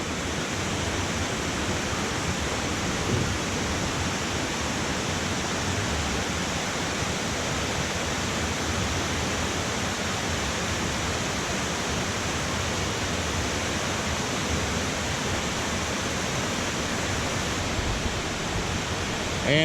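Steady roar of a waterfall on a creek near Laurel Falls in Western North Carolina, close and constant broadband rushing water with no voices.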